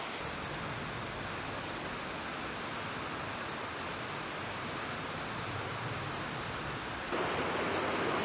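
Water pours down a waterfall in the Fratarica gorge, a dense, steady rushing roar that fills the whole stretch, swelling slightly louder near the end, with no voices.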